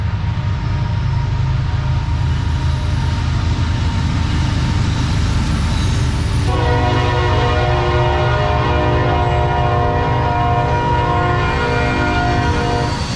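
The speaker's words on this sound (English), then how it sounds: "There's another train." A train rumbles loudly past at close range, a continuous heavy roar with metallic ringing tones that rise partway through.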